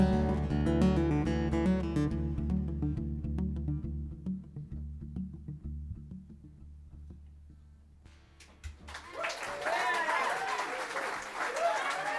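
Music with a singing voice winds down, then a bar audience breaks into clapping and cheering that fills the room.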